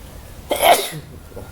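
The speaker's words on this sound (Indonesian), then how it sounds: "Maaf saya bersin." One sharp sneeze bursts out abruptly from a person indoors, close and loud for about a quarter second before fading into quiet room tone.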